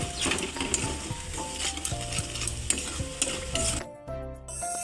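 Spice paste frying in a pan for potol (parwal) kofta, a loud steady sizzle with rhythmic stirring and spatula scrapes, close up; the sizzle drops away near the end.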